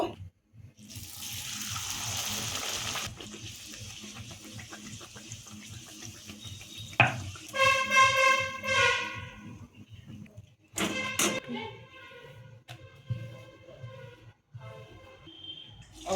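A pea-filled matar kachori fries in hot oil, giving a steady bright sizzle that later breaks into crackling bubbles and a few clinks of a utensil.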